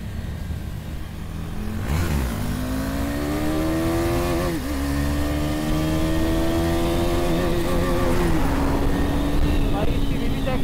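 A KTM Duke 390 BS6 motorcycle engine revving hard through a wheelie, a loud droning note that climbs and holds, dips briefly, then rises again, with wind rush throughout.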